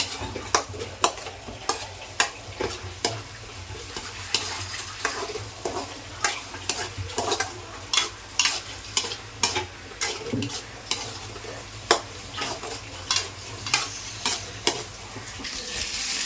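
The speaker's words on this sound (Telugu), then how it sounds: "మనం బాగా కలుపుకోవాలా. ఈ ఉల్లిగడ్డ పేస్ట్ బాగా వేగేదాకా." Onion paste fries in oil in a pan for bagara rice chicken curry under a steady sizzle, with regular scraping stir strokes and frequent sharp spatula knocks against the pan throughout.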